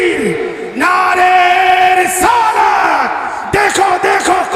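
A large gathering shouts the Takbir slogan back in unison, loud raised voices in ringing bursts with short gaps between them.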